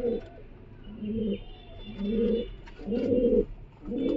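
Giribaz pigeons coo in a rhythmic series of about five deep, rolling bursts, each roughly half a second long, heard close and clear with short pauses between.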